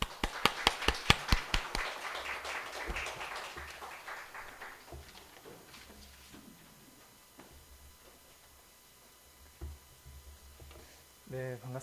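A church congregation claps at a missionary-dedication service, starting with a burst of about a dozen sharp, distinct claps that soon thin out into scattered taps, with a brief flurry of claps near the end.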